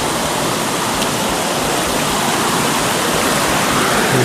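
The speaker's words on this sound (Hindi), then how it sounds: "वाटरफॉल पे हम पहुंच चुके हैं।" The Kamaldhara waterfall at the source of the Half river in Maikal, about 30 feet high, roars as a loud, dense and unbroken rush of falling water heard from above, with no voices.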